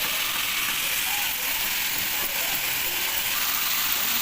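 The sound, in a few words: all ingredients being sautéed together for fish jhuro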